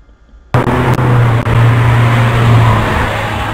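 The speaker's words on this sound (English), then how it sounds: "I'm gonna play the car sound" After a short quiet moment, a loud car engine kicks in and keeps running with a steady low rumble for a few seconds, close and alone.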